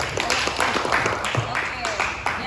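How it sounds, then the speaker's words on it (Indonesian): Students in a classroom applaud, a short run of brisk, fairly close clapping with a voice talking faintly underneath. "Silakan tepuk tangan."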